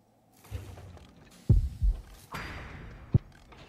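Low, muffled heartbeat thumps from the Horrorfield horror game sound irregularly and faintly amid creaks and mechanical game noise, with two stronger thuds standing out; no one speaks.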